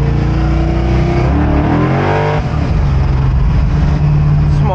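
A car's exhaust note rises as the engine pulls in a short burst of acceleration. It is loud and close, heard from inside the cabin with a steady engine drone underneath.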